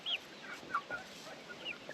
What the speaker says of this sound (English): This is my little chicken.